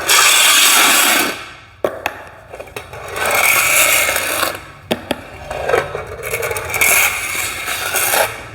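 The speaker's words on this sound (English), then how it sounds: "So if I just take the excess off here, just to show you." A metal bar scrapes excess floor leveling compound off a floor being flattened for tile, in several long, loud rasping strokes separated by brief pauses, close and alone.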